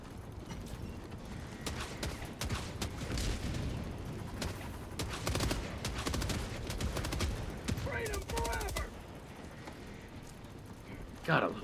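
Grenade launcher firing in a Helldivers 2 battle, a dense run of sharp blasts and booming impacts with rapid gunfire layered over it, loud and continuous, a voice speaking briefly near the end.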